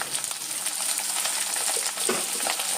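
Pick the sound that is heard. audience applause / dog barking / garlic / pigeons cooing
garlic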